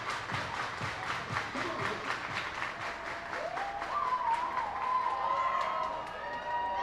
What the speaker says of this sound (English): Lots of cheering from the crowd here.